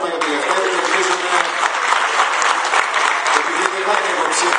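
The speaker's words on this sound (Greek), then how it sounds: "Ένα δυνατό χειροκρότημα για τον Λευτέρη" A crowd at a gathering gives Lefteris loud, sustained applause, dense and close, filling the whole stretch without a break.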